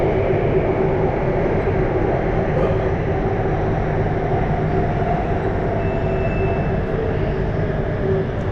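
Interior rumble of a long metro train running in Thailand, a steady, loud low roar of wheels and motors with a faint whine, continuous and unbroken.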